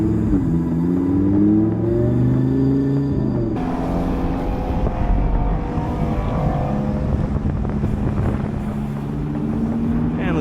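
A Lamborghini Huracan EVO Spyder engine while driving, a loud continuous roar with shifting pitch as it revs, mixed with strong wind buffeting.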